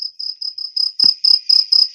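Crickets chirp steadily in rapid pulsed bursts, about four per second, loud and close with no other sound.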